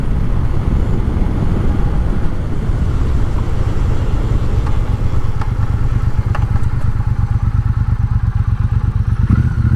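A 2020 Triumph Bobber Black motorcycle rides along a road, its engine giving a steady, loud, close low rumble with a rapid pulsing beat and occasional faint clicks, with no talk.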